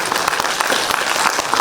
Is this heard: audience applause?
yes